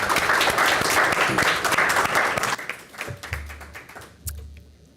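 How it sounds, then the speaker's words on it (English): A symposium audience applauds a panel with dense clapping for about three seconds, then the applause thins into scattered claps and fades out. "Panel 4, round of applause"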